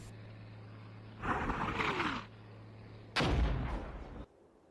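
Enemy mortar rounds land in the war game Armored Brigade 2 as two heavy, booming impacts about two seconds apart, each a broad roaring blast with a short rumbling tail, fairly close.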